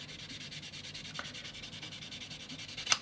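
A Dspiae self-adhesive 1000 grit sandpaper block is rubbed steadily back and forth across a curved surface in quick, even strokes, soft and close, with one brief sharper scrape near the end and no talking.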